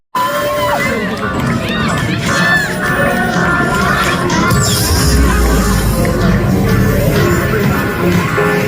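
A large crowd at Universal Studios Hollywood cheers and shouts loudly at an Autobot show, with children's shrieks and a dense hubbub of voices running continuously throughout.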